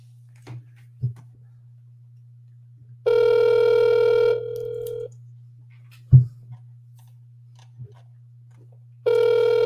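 Over a steady low hum, a phone line rings out twice with long electronic ring tones and a silent gap between them, plus a few soft clicks, while the call goes unanswered.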